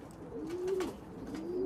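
A yearling racing pigeon coos softly at close range, a couple of low, rolling coos separated by a short pause, with no voices present.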